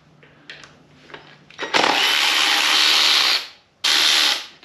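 A power tool works bolts loose from the oil pump on a GTO engine during a teardown, after a few quiet clicks and clinks. Two loud, close bursts of harsh mechanical whirring follow, the first long and the second short.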